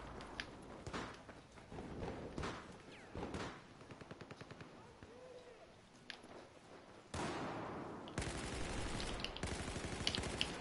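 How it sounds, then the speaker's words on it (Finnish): Gunfire in a first-person shooter game: scattered single shots, short rapid bursts and louder volleys come in irregular clusters, with footstep-like clicks and someone talking between them. "Niin, minä ammun sitten vaan hutiin"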